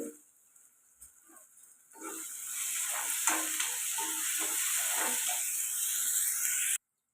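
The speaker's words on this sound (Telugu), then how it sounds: "ఆనియన్స్ అయితే ఇలా ఫ్రై అవుతున్నాయి కదండి" Onions and curry leaves with salt frying in a pan for egg curry: a quiet start with a few light clinks, then a loud, steady close-up sizzle that runs until it cuts off abruptly.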